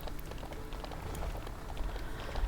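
Rain falls steadily in the video game Ranch of Rivershine, a soft, continuous patter and hiss of drops on surfaces at moderate volume, with no one speaking.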